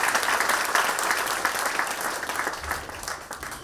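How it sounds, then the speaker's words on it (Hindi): Steady applause from an audience at a celebratory curtain-raiser event, a dense even clapping wash lasting throughout without a break. "इस पल के लिए जोरदार तालियां तो बनती है।"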